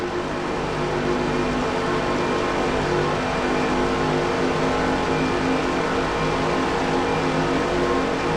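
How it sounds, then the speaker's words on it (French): Animated race car Lightning McQueen speeds around a track, a steady, loud engine roar and rushing wind noise that hold without a break from start to finish. "Et voici Flash McQueen qui se faufile à toute vitesse."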